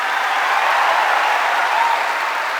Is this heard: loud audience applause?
yes